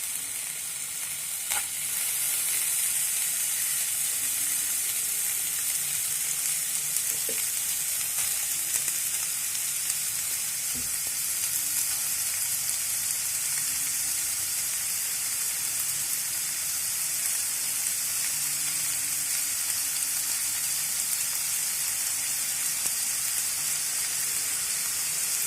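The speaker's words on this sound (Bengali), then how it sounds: "কড়াতে সাদা তেল দিয়ে গরম হলে বিট গাজর কুচিগুলো দিয়ে দেওয়া হলো।" Chopped beetroot and carrot fry in hot oil in a pan, giving a steady, dense sizzle that holds evenly throughout with no talking.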